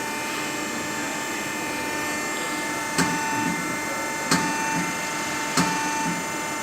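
A Steelmaster SM FHPB 2504 hydraulic panbrake folder runs with a steady, loud mechanical hum and whine, broken by three sharp clunks spaced a second or two apart, with no one talking.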